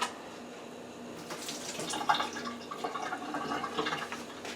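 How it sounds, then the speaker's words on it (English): Hot water is drained off cooked carrots into a kitchen sink, a splashing, gurgling pour that starts softly and builds into an uneven rush of running water, with no talking. "I'm going to drain the water off the carrots."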